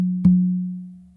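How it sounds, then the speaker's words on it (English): A single tone from the tumba conga drum rings out after a soft first touch, with a sharp strike and a long, steady low hum that fades over about a second. "So 2 opens on that first tumba to your non-dominant side."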